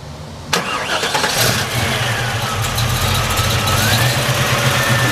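A 1970 Chevrolet Chevelle SS 454 convertible with a factory crate motor and 5-speed transmission cranks briefly, fires, and settles into a loud, rumbling idle close by.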